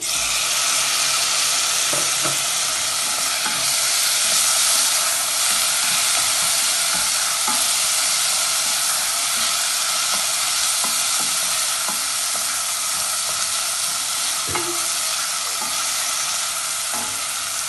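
Chopped tomatoes fry and get stirred in a hot pan for vegetable patties, a steady broadband sizzle with scraping stir sounds and occasional soft clinks, loud and close, with no talking.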